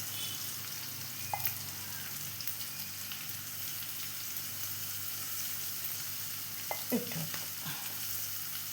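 Onions fry in a pan for idli upma, giving a constant soft sizzle with occasional stirring clinks. A brief spoken word comes over the frying.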